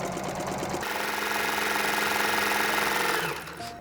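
A sewing machine stitches an apron in one continuous run, a close, loud, rapid mechanical chatter that holds steady and then slows and stops near the end.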